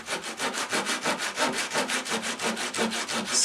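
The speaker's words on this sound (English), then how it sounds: "And then with a dovetail saw, this little pull saw, cut through there, get as close as you can." A small dovetail pull saw cutting through wood in quick, even rasping strokes, about five per second, close and clear with no talking.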